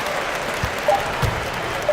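Hometown basketball crowd in NBA 2K18 during a Knicks versus Clippers game, a steady wash of cheering and clapping with a couple of brief louder swells, no talk over it.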